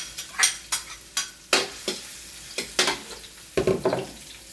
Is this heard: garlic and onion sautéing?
yes